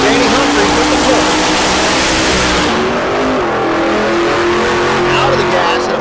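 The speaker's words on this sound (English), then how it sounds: "That's Danny Humphries with the Porsche." A Porsche drag racing car roars down the strip at a raceway, its loud engine note sweeping and fading, while an announcer talks over it.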